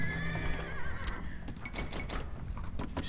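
Horse neighing from the Age of Empires II video game, amid mounted archer units: a whinny with clip-clop hoof sounds and game effects, continuous and moderately loud.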